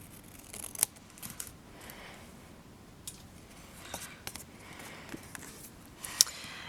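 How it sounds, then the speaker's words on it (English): Scissors trimming the overhanging edge of a paper card panel during card making, giving a few sharp, close snips spread across the stretch over quiet room background. "I'm going to trim off the part that hangs off."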